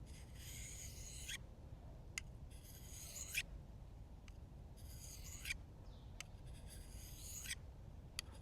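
Gerber knife being sharpened on a white Fällkniven pocket ceramic sharpener, a series of quiet, close rasping strokes, each about a second long, with short pauses between them.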